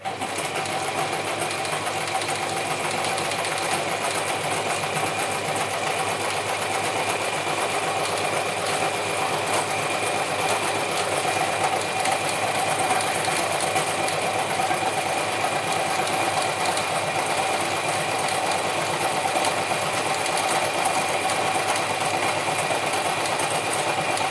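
A vintage Gritzner 1002 or Pfaff 307 sewing machine runs at a steady speed, a continuous close whirring and rattling hum with no pauses throughout.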